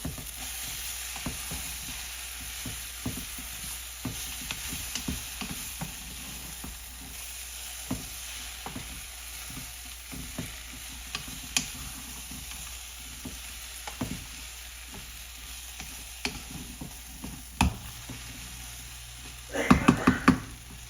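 Sweet potato khichdi hisses and sizzles steadily in a pan as almonds are added and stirred, with frequent soft spoon knocks throughout and a louder clatter of scraping near the end.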